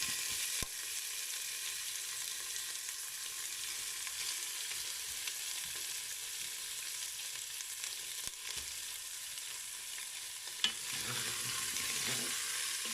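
Pork pieces browning in a hot pan with leeks and potatoes nearby, a steady loud hiss of frying that runs throughout, with occasional stirring clatters and scrapes near the end.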